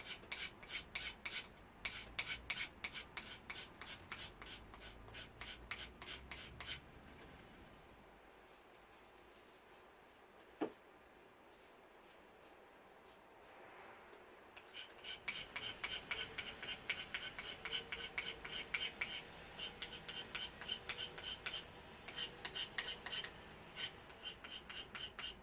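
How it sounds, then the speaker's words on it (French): A knife edge held at a ninety-degree angle scrapes a fire-starting rod to raise fine shavings, giving repeated rapid rasping strokes, close and loud, in two bursts with a quieter pause between them. "là, je gratte avec l'angle du couteau 90. Je pourrais faire des mini copeaux"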